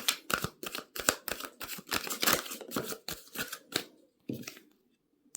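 Tarot cards are shuffled in quick repeated riffles, a rapid series of papery slaps and flutters close by, ending in a brief pause and a final riffle.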